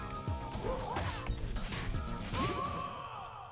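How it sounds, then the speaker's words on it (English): Glass-like shattering crash in the brawler game Streets of Rage 4, a sharp burst amid thumping hits, whooshes and grunting fight effects from the game, dense and busy throughout. "there was like a shattering sound as if the window broke"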